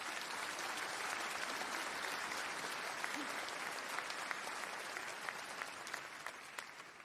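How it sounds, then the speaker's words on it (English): A concert audience at a Christmas carol concert gives sustained, even applause to welcome an orchestra, a broad wash of many hands clapping that holds steady and fades slightly toward the end. "So can we have a round of applause for our orchestra, please, to welcome them"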